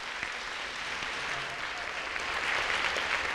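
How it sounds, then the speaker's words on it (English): A big round of applause from an audience at an evening event, continuous dense clapping from a crowd at moderate volume that swells slightly toward the end, with no voices standing out. "So can we please give Helen a big round of applause?"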